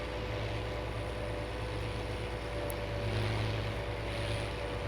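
A tractor engine drones steadily while pulling a planter across a field on a farm, a loud continuous low rumble with no talk.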